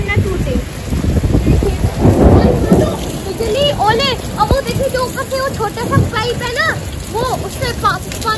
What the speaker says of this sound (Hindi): लेकिन एक घंटे से बारिश हो रही है